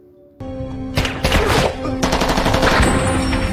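Henchmen in a mafia action film open fire on a policeman, with a burst of gunshots ringing out after a short quiet lead-in, followed by dense, loud, overlapping shots and crackling impacts.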